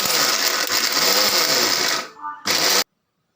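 An electric mixer grinder whirs loudly as it grinds Khandeshi black masala spices. The strong motor buzz runs steadily, cuts out briefly, restarts for a short burst, then stops.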